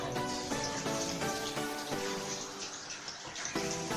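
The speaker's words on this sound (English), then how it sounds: "I'll just go ahead and wash my hands." Water runs steadily from a kitchen tap while hands are washed beneath it, a continuous splashing hiss with small irregular spatters, close and fairly quiet, with no talking.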